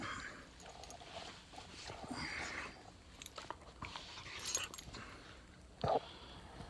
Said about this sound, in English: Dog has gone mad.